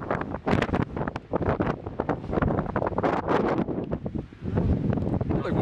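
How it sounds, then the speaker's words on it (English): Strong wind on a Colorado mountaintop at a fire lookout buffets the microphone in loud, continuous roaring gusts, with no pauses throughout. "It's super duper windy"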